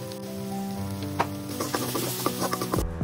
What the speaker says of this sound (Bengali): গরম তেলে পেঁয়াজ দিয়ে দিলাম।